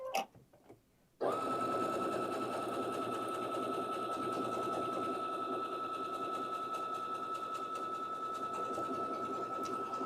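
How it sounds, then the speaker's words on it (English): A Baby Lock Victory sewing machine runs steadily alone after a brief pause, stitching out decorative stitch pattern 24 with a constant, close, loud motor whir and rapid needle clatter. "So I'm going to hit 24, and we're just going to stitch it out and see what it looks like"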